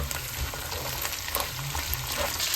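Pork sizzles steadily in a pan with shrimp paste stirred in during a mixed-vegetable sauté, a close, dense frying hiss with no speech over it.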